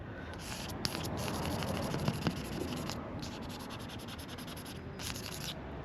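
A cloth rubs and squeaks across car window glass on a 2022 Tesla Model Y, steady close wiping strokes with a few small knocks, fairly quiet and with no voices.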